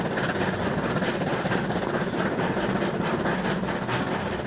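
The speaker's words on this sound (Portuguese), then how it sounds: "Com o trem se aproximando rapidamente" A train rushes in at speed along the rails, its broad, steady roar filling the scene loud and close with a faint rhythmic rattle of the cars, no talking heard.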